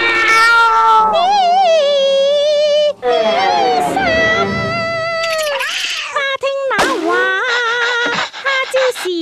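A cartoonish cat meows repeatedly in the China stage of the adventure game Passport To Peril, with drawn-out, wavering, loud meows and a caterwauling quality, mixed with synthetic game sounds and brief pauses between calls.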